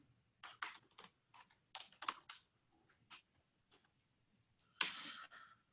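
Fingers type on a MacBook keyboard in quick, irregular bursts of soft clicks with short pauses, close and fairly quiet, with no voices.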